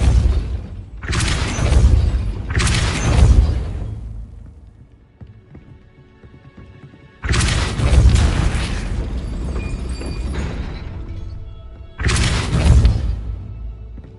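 Spell impacts from Hogwarts Legacy combat, likely Depulso force blasts, land as loud booming bursts in clusters, two quick ones, a pause, then a longer rumbling blast and a final hit, with no talk.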